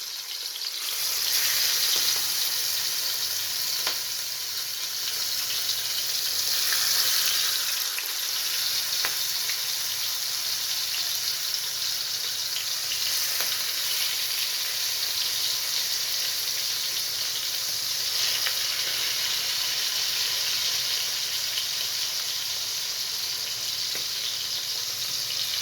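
Shrimp fry in a hot pan with a steady, continuous sizzle. A few sharp crackles and stirring sounds come through as pieces are added one at a time.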